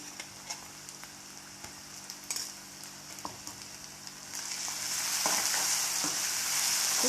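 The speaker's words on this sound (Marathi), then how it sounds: "हिरवी मिरची आणि कांदा व्यवस्थित परतून झालेला आहे" Green chilli and onion sauté in a pan for a radish chutney. A light sizzle comes with scattered clicks of a stirring spoon, then it swells into a louder, brighter, steady hiss for the last few seconds.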